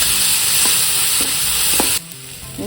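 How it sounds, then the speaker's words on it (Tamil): Ginger garlic paste fries in hot oil with stirring, a loud, close, continuous sizzle that drops in level near the end. "ஒரு இஞ்சி பூண்டு பேஸ்ட்டு ஒரு ஸ்பூன் போடணும்"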